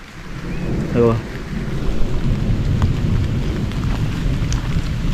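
Heavy rain pours down in a dense, steady roar while thunder rumbles low beneath it; a brief voice is heard near the start.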